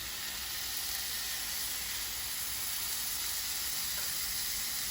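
Paneer tikka pieces sizzle steadily on a hot oiled tawa, a constant bright frying hiss that holds even throughout with no voices.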